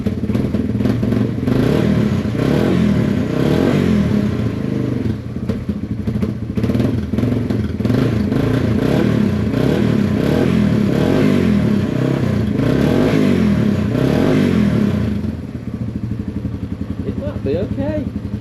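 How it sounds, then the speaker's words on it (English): A yellow Yamaha TW200 motorcycle engine runs loud and close, with a steady rough idle and repeated revs that then drop to a quieter idle near the end. "let's make sure it's gonna run off choke, rev up and everything"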